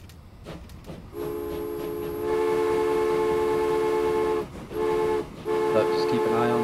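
Trains run in the Transport Fever video game: a sustained tonal horn-like whistle sounds over rolling rail noise, loud and close, briefly dipping and resuming, with no talk over it.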